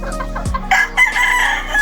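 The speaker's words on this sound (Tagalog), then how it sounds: "Ito yung ating mga pulet na napakaganda." Farm pullets cluck and squawk nearby in short, rapid bursts, a few sharp calls overlapping close to the listener.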